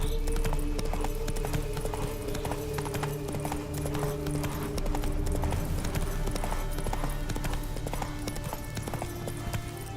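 Roach, the horse in The Witcher 3, trots with steady, rhythmic hoof clip-clops over a continuous game ambience, with a faint snort or whinny among the hoofbeats.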